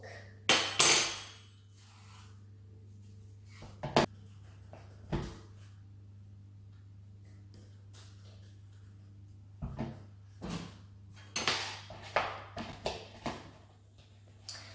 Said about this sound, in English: we need to mash the bananas in a bowl with a fork